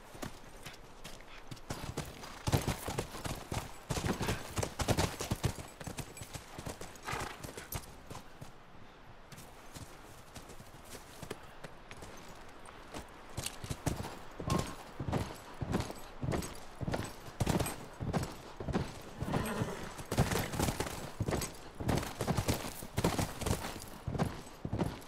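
Horse hooves clip-clop in a steady galloping rhythm in the video game The Last of Us Remastered, close and continuous, with a short slower stretch midway before picking back up.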